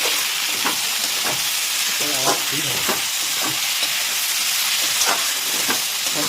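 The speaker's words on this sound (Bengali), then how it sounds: "দেখুন, এটা কিন্তু হাই ফ্লেমে ভাজা চলছে।" Tomato and mashed potato fry over a high flame, giving a steady loud sizzle. Scraping stir strokes cut through it at irregular intervals.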